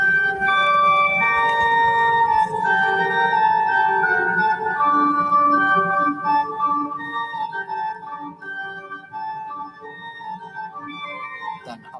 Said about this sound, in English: By and large, a fugue sounds like this.